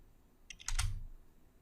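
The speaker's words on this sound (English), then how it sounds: "Next, I type in the plus symbol." A few quick keystrokes on a computer keyboard, including the plus key, are heard as a brief close cluster of clicks followed by a heavier key thud in a quiet room.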